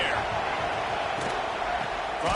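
A stadium crowd roars in NCAA Football 25 during a tense late-game defensive stand, a steady broad wash of cheering underneath a commentator's talk.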